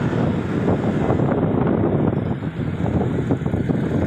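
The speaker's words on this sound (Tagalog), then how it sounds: "Lakas pa ng hangin yan." Strong wind buffets an outdoor microphone, apparently on a boat on the water, producing a continuous low rumbling roar that fluctuates in gusts throughout, with no clear talk.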